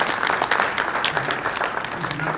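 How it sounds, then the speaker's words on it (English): A large conference audience at a national Native American gathering breaks into sustained, dense applause that fills the whole stretch at steady loudness, a continuous wash of many hands with no pauses. "can you give Jason a big round of applause?"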